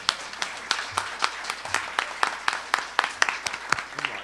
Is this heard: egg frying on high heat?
no